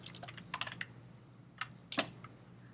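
Computer keyboard typing at close range, a few quick bursts of light clicking keystrokes separated by short pauses, then one sharper final tap, all fairly faint with no talking.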